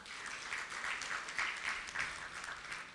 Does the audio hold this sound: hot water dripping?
no